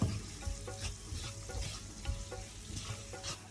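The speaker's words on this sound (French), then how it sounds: "Nous allons maintenant rajouter à nos oignons les épices que nous avons fait griller tout à l'heure. On mélange bien." Onions and toasted spices sizzling in a frying pan while a spoon stirs them, with repeated scraping strokes over a steady close frying hiss and no talking.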